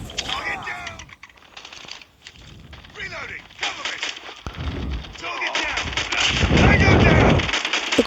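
Pistol fire in a pistol-only shooting video game pops repeatedly through loud game action and explosions, while a player talks excitedly over the shots.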